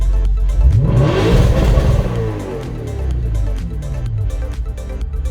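An Audi RS5 engine revs in neutral during an attempted launch-control start, rising quickly to a loud, throaty roar, then dropping back and settling into a rumbling, burbling idle with a second lighter blip, close and powerful.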